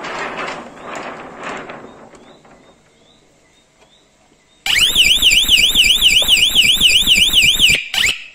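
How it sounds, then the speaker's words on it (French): After a few quiet seconds, a swimming pool alarm suddenly blares with a rapidly warbling electronic siren tone, cutting off abruptly near the end. "Je vais maintenant simuler donc le déclenchement de l'alarme"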